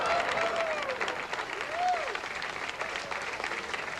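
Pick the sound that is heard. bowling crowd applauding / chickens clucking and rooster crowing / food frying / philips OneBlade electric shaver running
bowling crowd applauding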